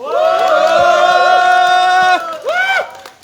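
A crowd at a peace candlelight rally in Gimcheon lets out a loud, sustained shout, then a second shorter cheer after a brief pause. No clear applause stands out.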